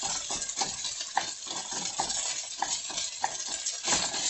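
Fried rice being stirred and broken apart in a hot pan with red acre cabbage microgreens, a steady sizzle under rhythmic scraping and tapping strokes roughly every half second, close and alone.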